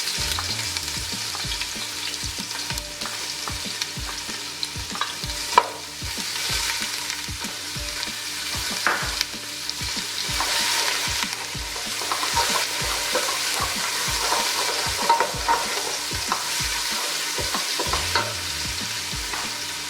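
Ginger garlic paste sizzles and crackles in hot oil for chicken karahi, steady and close, with repeated scraping stirs of a utensil against the pan.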